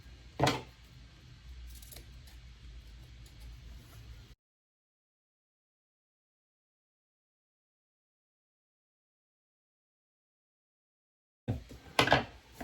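Scissors snipping loose extra threads off a newly sewn man's fitted shirt: one sharp snip near the start, a long silent gap, then a few more quick cuts at the end.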